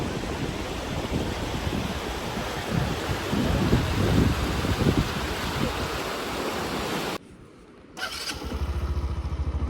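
Shyok river in Nubra Valley, Ladakh, rushing past as a steady broadband roar of flowing water, loud and continuous, briefly dropping out near the end before resuming.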